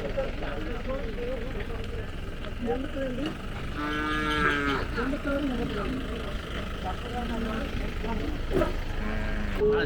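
Cattle lowing at a native livestock market in Palayakottai, with several loud, harmonic moos standing out over a constant crowd murmur and people talking nearby.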